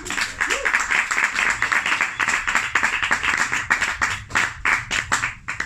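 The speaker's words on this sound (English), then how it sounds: "Let's give them both a round of applause." Audience applause in a small bookshop talk venue, a dense burst of close hand clapping lasting several seconds and thinning toward the end.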